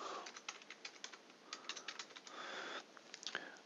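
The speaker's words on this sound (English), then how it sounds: "let's first type some dummy text as we do." Someone types text on a computer keyboard nearby, a quick irregular run of light key clicks with short pauses, faint and without talk.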